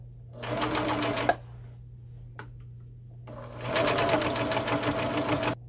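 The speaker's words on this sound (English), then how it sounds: "now I'm gonna run a piece of test fabric through this" Sewing machine running a piece of test fabric through as a hoodie makeover begins, two bursts of rapid close stitching with a pause and a sharp click between them.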